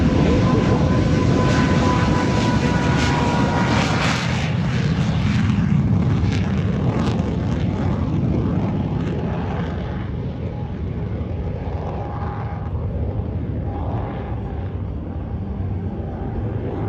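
Loud, continuous roar of a jet with an afterburning turbojet engine producing some 7,600 pounds of thrust on its takeoff roll at an air show, sustained and broadband, easing slightly as it moves away.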